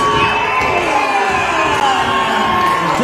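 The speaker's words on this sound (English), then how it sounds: "This crowd is going crazy, Nick." Wrestling crowd at a heavyweight title belt match cheering wildly, a loud, continuous roar of shouts and whoops that fills the whole moment.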